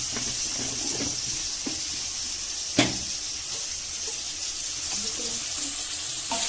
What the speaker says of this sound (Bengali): মশলাটাকে ভালো করে কষবো, ভালো করে একটু মিহি করে কষে নেব